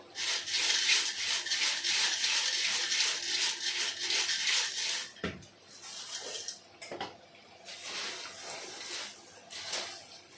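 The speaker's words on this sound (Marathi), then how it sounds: "चिवडा खालीवर करून घ्यायचा आहे चांगला" Corn chivda tossed and stirred in a pan makes a dry rustling, scraping rattle, close and continuous, with a few brief pauses and sharper knocks.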